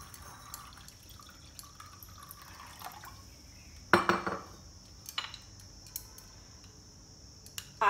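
Tamarind pulp being mixed with a glass of water for sweet pani puri water, with clinks and pours of utensils in a kitchen: a loud cluster of clatter and splashing midway, scattered taps after, and another clink at the end.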